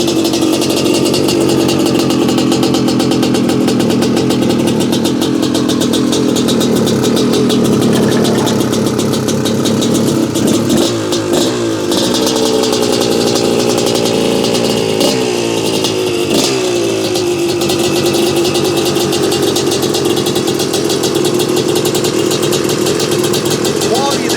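A 1988 Cagiva WMX 250 two-stroke dirt bike engine runs loudly and continuously, idling with a raspy buzz and occasional blips of throttle, close by.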